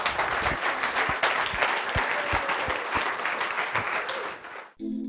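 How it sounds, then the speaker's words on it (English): Audience applause at a travel festival, steady dense clapping from a crowd lasting several seconds before cutting off abruptly near the end. "One giant round of applause."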